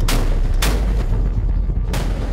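A German Navy ship's deck gun fires live rounds, three heavy blasts booming in quick succession, loud and percussive with a rumbling tail after each shot.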